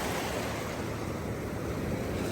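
Atlantic Ocean surf rolling in at a St. Augustine, Florida beach, a steady broadband wash of breaking waves with some wind rumble, continuous and fairly loud with no voices.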